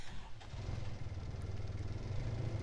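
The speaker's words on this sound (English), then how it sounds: "Now to start up the engine, and I can go to the other side." An engine starting up and idling in the horror game Mermaid Swamp, a steady low rumble with a rhythmic chug running throughout, fairly loud and alone with no talk over it.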